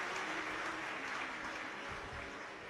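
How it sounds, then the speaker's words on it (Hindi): A large audience at a live Shiv Mahapuran katha claps loudly and continuously, a dense, even roar of applause lasting a few seconds with no voices standing out. "एक बार जोरदार ताली"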